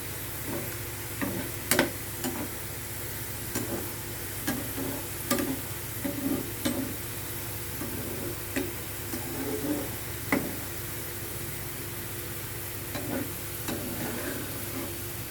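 Garelu-style vadas deep frying in hot oil, giving a steady low bubbling sizzle with scattered soft clicks and stirring taps throughout, close and fairly quiet, with no voices.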